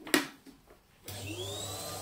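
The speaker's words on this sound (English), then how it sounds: "Right now we're going to put the hoover on" A hoover used for sweeping an open-fire chimney starts with a sharp click, then spins up into a steady whining drone that carries on close by.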